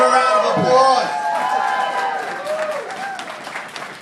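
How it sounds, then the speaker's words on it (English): Wedding guests applaud during a toast at a reception, a thick burst of clapping mixed with cheering and lively voices, loud at first and gradually thinning. "Give a round of applause."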